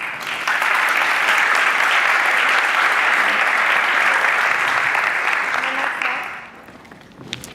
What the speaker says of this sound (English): Please give a round of applause for Ms. Sissi O'Reilly.